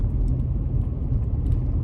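A small truck's engine running while driving, a steady low rumbling drone with road noise, continuous and close, no voices.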